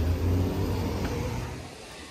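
A car driving off and accelerating on the way to Capilano Lake, its mid-range engine rumbling steadily and then slowly fading, close by, with no talking.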